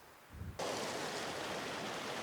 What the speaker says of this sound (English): here we are, this little waterfall, beautiful little waterfall this